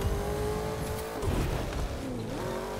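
A car is driven in the racing video game The Crew 2, a steady engine drone with shifting pitch and brief tire noise, loud and continuous with no talk.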